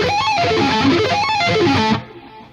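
A fast electric guitar augmented sweep arpeggio, notes rising and falling in quick waves with a distorted tone, then cutting off abruptly into a fading ring.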